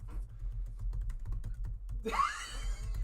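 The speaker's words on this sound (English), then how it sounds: "This guy's fucking typing." Typing on a computer keyboard, a quick run of light clicking keystrokes close to the mic for about two seconds, followed by a brief louder swishy burst.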